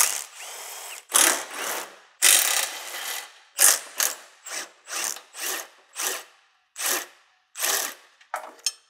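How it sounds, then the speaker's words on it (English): A ratchet wrench turns nuts on threaded rod during header work on a Mercedes E55 wagon, in a dozen separate bursts of rapid clicking with short pauses between, close and loud, no talk. "you gotta start off by picking the right size wrench"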